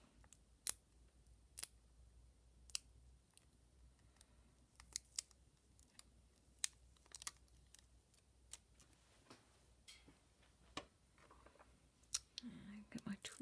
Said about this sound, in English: Just going to snip off the bottom a little bit.